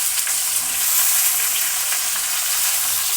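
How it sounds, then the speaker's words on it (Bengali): Chopped onion frying in hot oil with whole cumin seeds, giving a steady, close, even sizzle that holds for a few seconds with no voices. "পেঁয়াজটা লাল লাল করে ভালো করে ভেজে নিয়েছি"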